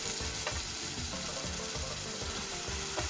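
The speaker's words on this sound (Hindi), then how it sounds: "अब मैं इसमें डालूंगी अपना ग्रेटेड प्याज" Grated onion hitting a hot pan for Punjabi rajma, a loud, dense, continuous sizzle and crackle right up close, with faint scraping underneath and no voices.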